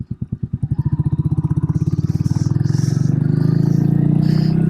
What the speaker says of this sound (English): And today we have traffic.